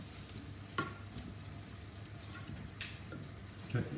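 Rice fries in a pan with a soft, steady sizzle, broken by a few sharp scrapes and knocks as it is stirred, close and fairly quiet with no talk.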